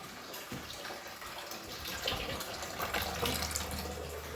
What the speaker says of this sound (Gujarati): રસોડામાં છે ને આ નળ ખોલ્યો